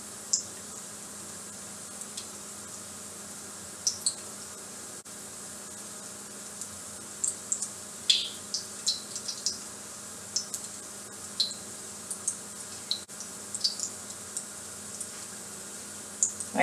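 Coated chicken pieces fry in a pan with a soft, steady sizzle and scattered sharp pops and crackles, and no one speaks.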